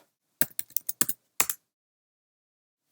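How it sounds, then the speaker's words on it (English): Quick bursts of keystrokes clatter on a computer keyboard, about a dozen crisp taps in an uneven run, then silence before one more tap at the end. "then we'll just type in google.com"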